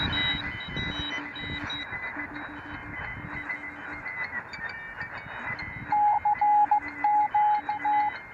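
Morse code signals received over radio from operators around the world: steady, repeating dot-dash beep patterns on two tones play continuously under a hiss of static and wind noise, with a louder, higher keyed signal joining near the end.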